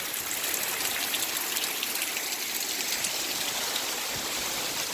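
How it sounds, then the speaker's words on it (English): Rainwater from a gutter runs over outdoor steps beneath a deck as a steady, fairly loud rushing trickle, like a small stream, with no voices. "You can see the water coming over the steps up there now."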